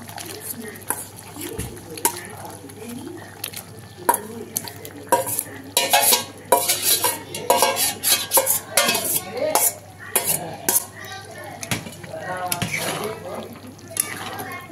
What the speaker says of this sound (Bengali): ভেজে রাখা মাংসগুলো দিয়ে দেবো গ্রেভির মধ্যে।